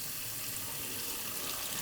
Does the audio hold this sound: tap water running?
yes